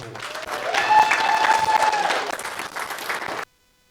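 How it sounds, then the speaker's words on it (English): Guests at a 21st birthday party break into a loud round of clapping with some cheering mixed in, swelling quickly, holding for a few seconds, then cutting off abruptly. "let's give another round of applause"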